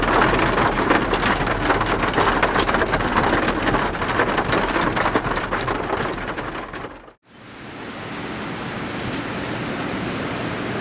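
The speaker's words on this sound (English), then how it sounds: "not just raining, it is hailing in here." Dense, steady hail hammering a car, loud and close, cutting out abruptly before resuming more softly.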